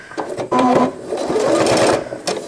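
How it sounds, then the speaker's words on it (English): Sewing machine running steadily as it sews a few locking stitches on nursing pad fabric: a close, loud motor whir with a brief pause before a longer run, no voices. "I always like to sew a couple locking stitches before I really get started"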